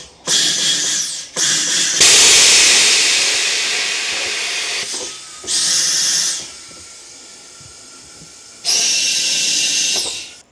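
Compressed air hisses in loud bursts as it is blown into a thin old tire on a Sprite wheel, several long blasts separated by quieter stretches.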